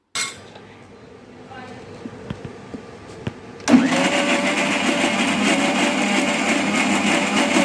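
A few clinks and taps against a container give way to a blender kicking on loudly, churning hummus paste with olive oil in a continuous close whirring roar.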